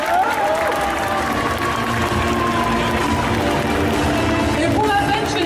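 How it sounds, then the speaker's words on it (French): An audience applauds cosplay contest participants at the Yggdrasil Indoor festival, a loud, continuous wash of clapping that keeps going the whole time, with voices mixed in. "c'est moi qui vous demande de les applaudir vraiment très fort"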